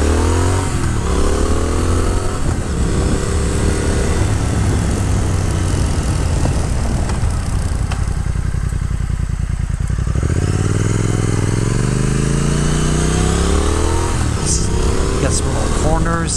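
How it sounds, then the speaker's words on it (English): A 2022 Triumph Speed Twin motorcycle on country roads revs up hard, engine pitch climbing in repeated rising sweeps as the bike accelerates, loud and close throughout. "Give it some gas, give it acceleration, no problem"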